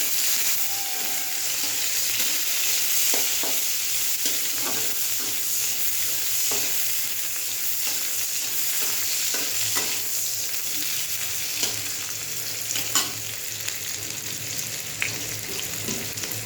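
Chopped onion with a bay leaf and a little cumin fries in a pan with a steady, bright sizzle. A spoon clicks and scrapes now and then as the onion is stirred, and the sound stays close and even throughout.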